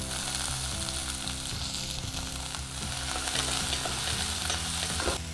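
Onions frying in a pan with ginger and green chili, a dense steady sizzle with repeated soft stirring scrapes, fairly close and continuous.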